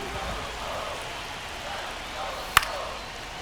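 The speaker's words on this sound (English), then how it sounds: "It really feels like we might be running out of time before a rain delay is called. This rain is not letting up." Rain falling during a baseball game in MLB The Show 25, a steady soft hiss of rain with one sharp crack partway through, with a voice speaking over it.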